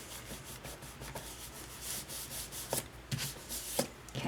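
Hands rubbing glued paper nesting doll pieces, a soft, faint, continuous scuffing with brief louder swipes, close to the surface and heard alone in a quiet room.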